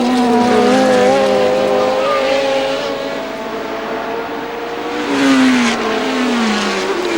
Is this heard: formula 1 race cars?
yes